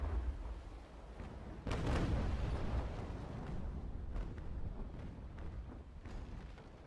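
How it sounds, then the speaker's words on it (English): A ship's cannon broadside fires in a naval video game, a heavy booming burst that rolls into a long rumbling tail, with fainter thuds following in the distance. "we should be able to get another broadside against their tail from our starboard guns"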